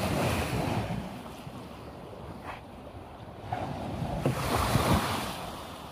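Sea waves wash onto a winter beach in Torrevieja, Spain, a steady broad surf roar with gusts of wind buffeting the microphone and a few louder breaking swells toward the end.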